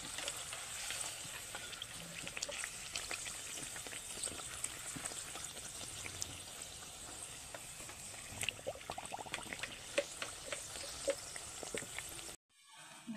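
Nan puri fries in hot oil, a faint continuous crackling sizzle with dense tiny pops throughout, cutting out abruptly just before the end.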